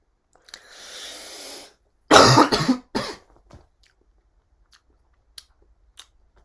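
A long breathy inhale, then a harsh burst of rough coughing, close and loud, trailing into a few faint clicks and quiet.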